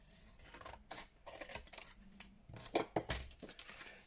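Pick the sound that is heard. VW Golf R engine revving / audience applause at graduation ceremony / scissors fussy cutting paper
scissors fussy cutting paper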